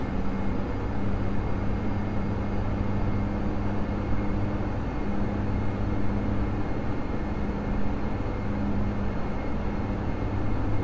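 Dash 8 Q400 turboprop engines at maximum throttle in a flight simulator, a steady loud droning roar with a constant tonal hum, unbroken and without talk.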